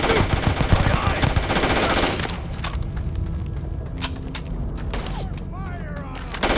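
Heavy rapid-fire gunfire in a video game, a dense, loud burst of automatic shots that gives way to scattered single shots, mechanical clatter and ricochet-like whines, with voices shouting in between.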